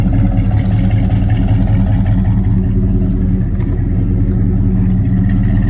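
A Chevy C10 with a newly fitted motor runs steadily, its loud exhaust giving a deep, even, rumbling drone heard up close with no pauses.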